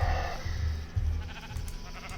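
A sheep bleats in Minecraft, a blocky video game, with a few short, low, repeated calls that sound close and fairly loud, and no one talks over them.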